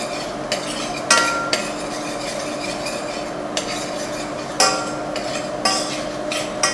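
Garlic frying gently in oil in a pan for an Indonesian dish, with soft, steady bubbling and sizzle, plus a few clinks and stirring scrapes of a utensil against the pan.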